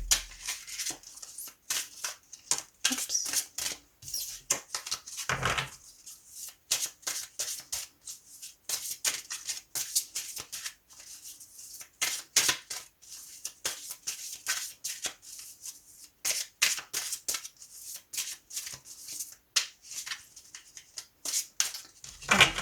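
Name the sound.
cards being cut and spread out for a reading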